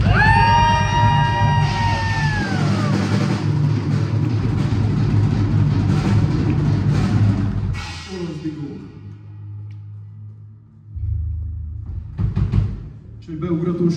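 Live club audience in Szeged cheering and shouting for the band, a loud, dense burst of yells over ringing amplified guitar that drops off abruptly, then a few scattered shouts rise again near the end.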